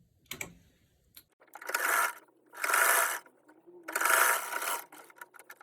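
A sewing machine stitches a trouser pocket in three short runs of rapid whirring, each lasting about a second, separated by brief pauses with small clicks and handling sounds.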